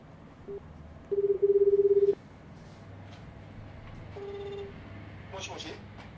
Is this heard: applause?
no